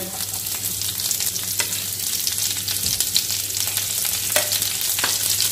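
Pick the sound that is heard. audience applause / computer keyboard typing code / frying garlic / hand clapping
frying garlic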